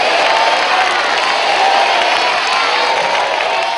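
A church congregation fills the space with a sustained wash of applause and cheering, loud and steady throughout with no pauses.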